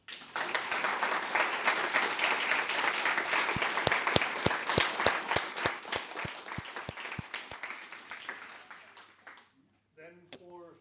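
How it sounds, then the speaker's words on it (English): Audience applause at a university aerospace design symposium, a full round of clapping that swells, settles into slower rhythmic claps, then fades out before a voice begins speaking at the end. "I think it deserves one more round of applause."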